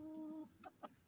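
A hen gives two short, soft clucks in a coop at roosting time, following a brief tonal hum, faint and close.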